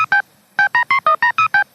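A telephone number is keyed in as a quick run of DTMF tones: two beeps, a short pause, then six more evenly spaced beeps, loud and clean.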